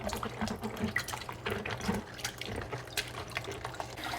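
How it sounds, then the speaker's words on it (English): Salted napa cabbage leaves rinsed under a running kitchen tap, a steady close rush of water with splashing and dripping as hands work through the leaves. "under running water, wash in between the leaves again"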